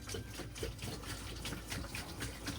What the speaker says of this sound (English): Adding the rinse water.